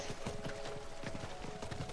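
Rapid rhythmic hoofbeats of a ghostly horse galloping in the video game Diablo IV, quiet and steady over a faint game-ambience hum.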